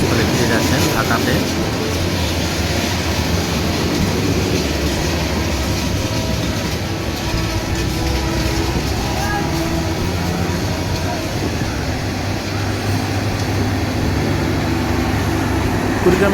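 The Kurigram Express, a Bangladeshi passenger train bound for Dhaka with crowds riding on its roof, rumbles loudly and steadily past with continuous wheel clatter, while someone talks over the noise.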